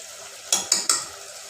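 Green chili, garlic and ginger paste frying in a pan, with three short bursts of stirring and sizzling in quick succession, close and fairly loud over a quiet background.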